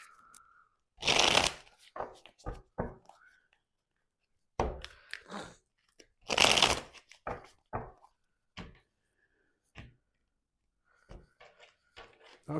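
Oracle cards being shuffled in close, crisp bursts: two long riffles, each followed by short taps and slides of the deck, with quiet gaps between them and no clear talking.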